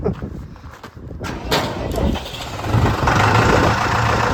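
A tractor engine cold-starts outdoors after being plugged in, a rough, loud mechanical rumble that builds over a few seconds and settles into a steady run, with no talk.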